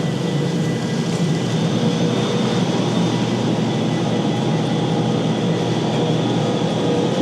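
Inside a tilting Pendolino passenger train at speed, a steady, fairly loud rumble and hiss of motion and air noise fills the cabin continuously, with no talking.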